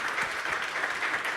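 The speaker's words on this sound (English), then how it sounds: "Please, a round of applause for this" Audience applause after a speech at an AI Cures MENASA 2022 conference, a steady dense wash of clapping from a roomful of people, moderately loud and continuous with no talk.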